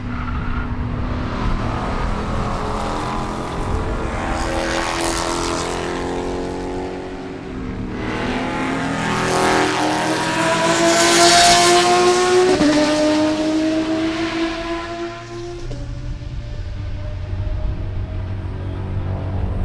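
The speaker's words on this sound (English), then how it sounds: "So that was the leader and second place in the Spec Corvette class." Spec Corvette race cars at Sebring roar past in succession, with rising and falling engine notes, gear shifts and a loud peak as the leaders sweep by mid-clip before fading.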